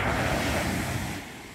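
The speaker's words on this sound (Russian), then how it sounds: "Сегодня волны." Sea waves wash onto the beach at Alanya, Turkey, a steady close-up surge of surf with wind noise over the microphone, fading slightly toward the end.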